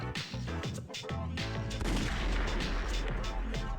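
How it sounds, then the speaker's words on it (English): Gunshots from starting pistols at a race in the Persona 3 video game, a few sharp bangs over game music and noisy background, fairly loud and close. "They really just be shooting guns off at this, huh?"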